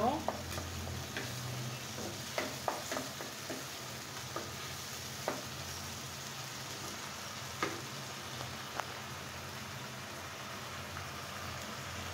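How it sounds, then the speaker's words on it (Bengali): Spices and oil sizzle steadily in a pan while rui fish curry with coconut is cooked, with a few soft clinks of a stirring spoon scattered throughout. "এখন আমি 2 মিনিট জাস্ট এটা ভেজে নেব"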